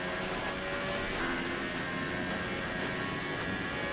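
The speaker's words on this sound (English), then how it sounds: "You can hear the car still scraping the ground" Continuous dense engine and road roar from an F1 race car bottoming out and scraping the ground at Silverstone in the F1 2018 video game, steady and loud with no talk.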